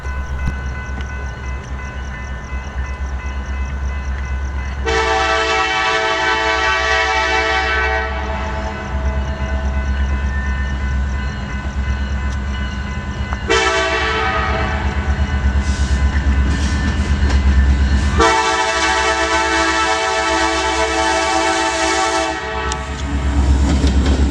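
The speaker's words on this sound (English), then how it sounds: "this is an empty wind turbine train to go pick up some wind turbines in Galveston" An empty BNSF wind turbine freight train rumbles past steadily while its horn sounds in long, loud blasts, with wheels clattering on the rails between the blasts.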